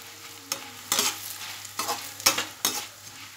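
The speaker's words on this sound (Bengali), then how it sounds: "এই টাইমে আমি বাটি থেকে চিড়েগুলো দিয়ে দেবো দিয়ে সাথে সাথে নাড়বো" Flattened rice (chira) hits hot oil and is stirred in a pan, giving a faint sizzle broken by several sharp scraping stirs, with no talking.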